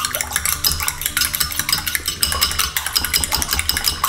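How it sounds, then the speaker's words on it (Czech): Eggs whisked with a fork in a bowl while preparing chicken pad Thai, giving a steady run of quick, close clinking scrapes against the bowl throughout, with no talking. "Takže jenom takhle nějakou vidličkou to trošku promícháme."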